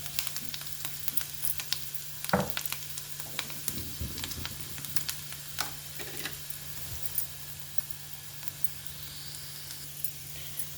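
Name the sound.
ginger garlic paste frying in a pan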